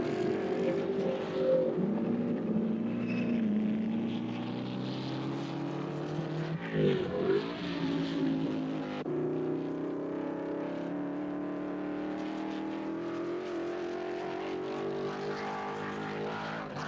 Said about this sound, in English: A clicking of multiple stopwatches by Neubar as Moss and Fangio scream past the pits.